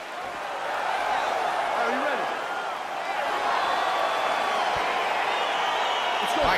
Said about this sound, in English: All right, crowd getting excited as this fight gets underway